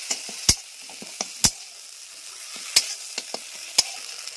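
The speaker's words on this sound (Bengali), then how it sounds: "টমেটো আর আদা আমি একসঙ্গে ভালো করে কষিয়ে নেব" Tomato and ginger paste frying in a pan, a quiet low sizzle punctuated by several sharp spoon-against-pan clacks and stirring scrapes at uneven intervals, close up.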